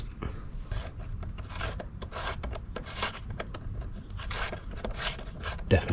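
A Chris King bottom bracket preload bolt is turned into dirty threads, giving a rough, gritty grinding and rasping scrape in short repeated strokes, close and fairly quiet, with no voices.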